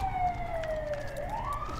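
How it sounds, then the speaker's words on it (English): A wailing emergency-vehicle siren heard from outdoors, its tone sweeping down and then rising again, steady and fairly distant, with no talk over it. "Wow, sirens uh, going crazy out there."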